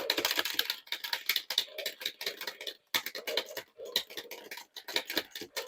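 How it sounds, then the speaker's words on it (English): Arcade buttons on a Tekken 3 cabinet are tapped in rapid bursts of crisp, close plastic clicks, with a brief pause partway through before the fast clicking picks up again. "to hear the clicks of the buttons"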